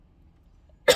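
A single sharp cough near the end, loud and close, after a stretch of near silence.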